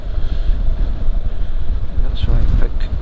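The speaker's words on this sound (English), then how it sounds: "And it's a bit windy." Steady wind buffets the microphone with a low, rumbling roar that gusts unevenly throughout, loud and close, at an open rural spot.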